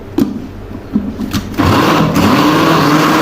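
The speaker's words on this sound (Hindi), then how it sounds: "घी जो है वो ब्लेंड हो चुका है" An electric blender whirs as it mixes ghee into a kebab mixture. A few short pulses come first, then a loud, steady motor whine runs on close by.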